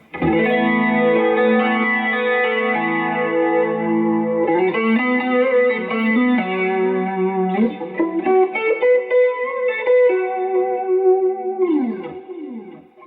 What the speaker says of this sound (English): we'll play through the wet channel only with the modulation and the delay on